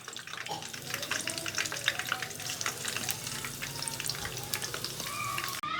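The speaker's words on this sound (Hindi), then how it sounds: "तो इसी तरीके से हम बाकी पकौड़ों को भी अच्छे से फ्राई कर लेंगे" Chicken pakoras deep frying in oil, with a dense, bubbling sizzle heard close and steady, light stirring noises, and no speech over it.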